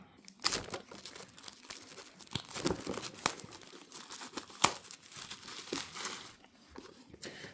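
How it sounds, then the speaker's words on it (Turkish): The cardboard box of a Carlinkit T-Box Plus CarPlay and Android Auto adapter is opened, with close crinkling, rustling and papery tearing plus a few sharp snaps and clicks, all without speech. "Şimdi cihazı kutusunu açalım."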